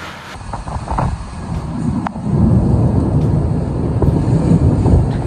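Typhoon Khanun's gusts buffet a microphone outdoors in Okinawa, a loud continuous roar of wind that swells and stays heavy throughout, with deep rumbling buffeting and no voices.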